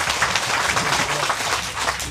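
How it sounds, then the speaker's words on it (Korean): A brief burst of crowd applause, many hands clapping together in a steady, dense wash with no pauses. "큰 박수 부탁드리겠습니다"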